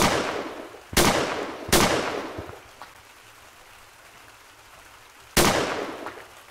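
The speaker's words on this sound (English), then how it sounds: "So the next one is a shotgun." Three loud in-game shotgun blasts from the Gorilla Tag mono sandbox mod, a close pair near the start and a third after a quiet gap, each with a sharp attack and a trailing decay.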